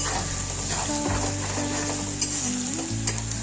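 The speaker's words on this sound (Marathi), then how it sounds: "लसूण आपल्याला छान कडक होईपर्यंत तळायचं आहे" Garlic frying in oil until crisp for a Maharashtrian chivda, a loud continuous sizzle over low steady background tones, with a couple of brief sharper spits.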